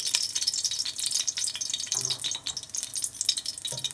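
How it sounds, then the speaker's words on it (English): Seeds for a chicken kofta biryani fry in a quarter cup of hot oil, a steady bright crackling sizzle with scattered pops and faint stirring scrapes, close and continuous throughout. "we're going to add in 1/4 cup of oil and fry our seeds"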